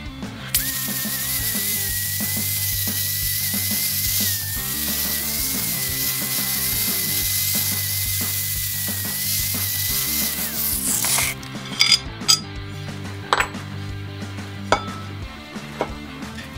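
Aluminium metal is brushed by hand, making a steady close scratchy rasp with rhythmic strokes for about eleven seconds, then giving way to sparse metallic taps and clinks.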